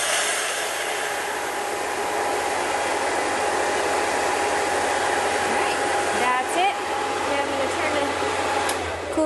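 High-pressure air hisses loudly and steadily from the bleed valve of an Air Venturi personal HPA compressor, a broad, continuous rushing blast held close up for several seconds with slight flutter near the end.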